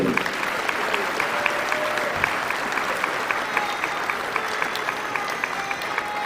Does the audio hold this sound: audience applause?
yes